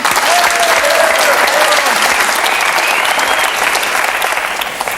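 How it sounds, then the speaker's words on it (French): A television studio audience breaks into loud, sustained applause for Alain Souchon, thick continuous clapping with faint vocal whoops running through it, easing slightly toward the end. "On applaudit Alain Souchon"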